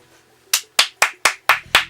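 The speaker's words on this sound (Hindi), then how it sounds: "तालियां" Six sharp handclaps ring out at an even pace, close and loud, after a joke on a talk show, with no voices over them.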